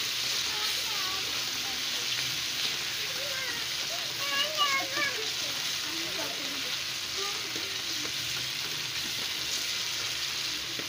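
Tomatoes and onions fry in a pan for a home-cooked chicken liver and potato curry, a steady close sizzle with light stirring under a voice.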